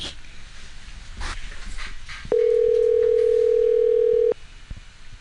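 A single long electronic ringback tone sounds for about two seconds over faint background noise and a panting dog.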